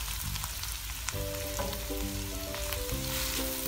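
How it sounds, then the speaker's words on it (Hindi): Minced meat keema frying with softened onion in a pan and stirred with a spoon, a steady close sizzle with scraping strokes and faint clinks over the crackle. "आपने इस तरह इसमें चमचे की मदद से हिलाना है।"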